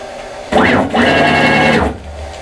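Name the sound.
machine spindle moving in before cutting rubber magnet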